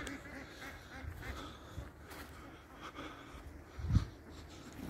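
Ducks quacking outdoors after being fed, a short burst near the end standing out over steady background noise; the rest of the calls are faint.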